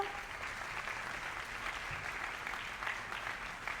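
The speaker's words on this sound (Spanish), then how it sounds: "Al ingeniero Mario Rolla, aquí presente, de la Agencia Espacial Mexicana, por favor, también un fuerte aplauso." An audience at a space conference applauds an engineer from the Mexican Space Agency, a steady, moderate wash of clapping that stays even throughout and sounds somewhat distant.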